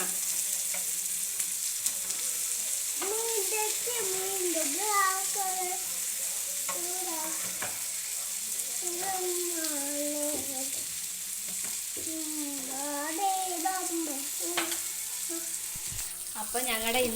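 Fish frying in a pan for a home lunch gives a steady, close sizzle that runs unbroken throughout, while a voice and other people talk over it.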